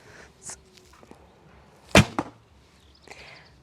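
A Turkish bow of about 38 lb at a 28-inch draw looses an arrow outdoors: one sharp, loud snap of the string with a brief buzzing vibration after it, with a few faint clicks before and after.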